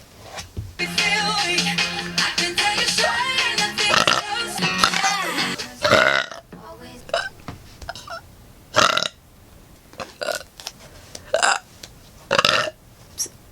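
A long run of loud, repeated burps from a young woman, starting with a sustained rumbling belch and followed by a string of shorter separate burps spaced out over several seconds, close to the microphone.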